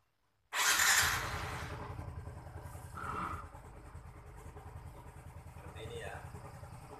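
A fuel-injected motorcycle is started with the electric starter: a loud burst as it catches, then a steady idle with a low rhythmic throb, under someone talking.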